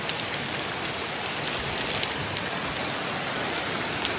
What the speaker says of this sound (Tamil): சம்மர்ல எவ்வளவு பெரிய மழை பாருங்க ஃப்ரெண்ட்ஸ். நல்லா சரியான மழை.